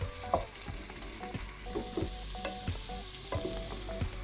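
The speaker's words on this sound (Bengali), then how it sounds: "কেটে রাখা পেঁয়াজ দিয়ে দেবো মিডিয়াম ফ্লেমে গোল্ডেন করে ভাজবো পেঁয়াজটা" Chopped onion frying on a medium flame in hot oil tempered with two bay leaves and half a teaspoon of cumin, for a spinach chicken curry; a steady close sizzle with intermittent stirring clatter, no voices.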